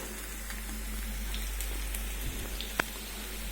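Ukrainian potato pancakes (deruny) fry in a pan with a dense, continuous sizzle and crackle, dotted with small pops and one sharper spit near the end, no talking.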